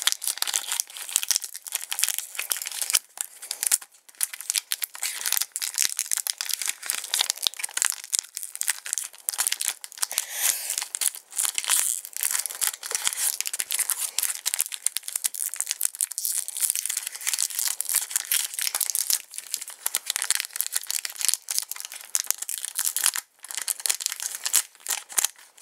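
Foil wrappers of 2011 Topps Chrome retail trading card packs, including an orange refractor pack, crinkle and tear open in continuous close-up rustling that runs alone for the whole stretch, with no talk.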